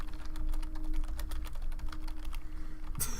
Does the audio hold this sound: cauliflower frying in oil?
no